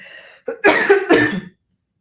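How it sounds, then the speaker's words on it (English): Two sharp, raspy coughs in quick succession, close and fairly loud, with a brief quieter breath before them and silence after. "it like brought my cough back."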